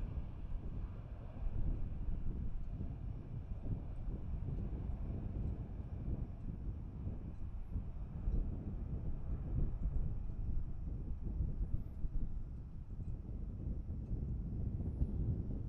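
Boeing 737-800 airliner departing runway 18 left at DFW in hot summer weather, a steady broad low roar of jet engine noise sustained throughout, heard from a distance with some wind buffeting on the microphone.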